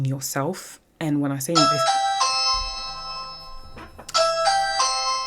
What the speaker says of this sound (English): that is my doorbell going.